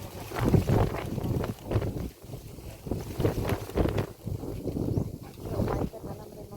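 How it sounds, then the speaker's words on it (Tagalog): Wind gusts buffet a microphone outdoors, producing loud uneven rumbling bursts that rise and fall throughout, with faint talk in the background. "Karon ang hangin po panira sa moment."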